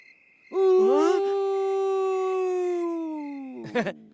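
A dog in a nighttime film scene lets out a single long, drawn-out howl that slowly falls in pitch. It is loud and close over a quiet background, and a brief rougher yelp follows at the end.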